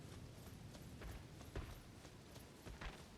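Horse hooves clip-clop in the video game Elden Ring, faint and soft with irregular thuds over a steady wash of game ambience.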